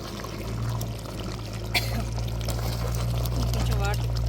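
Liquid is poured into a stone grinding mortar during outdoor cooking in a garden, a soft continuous pouring and trickling while people talk over it nearby.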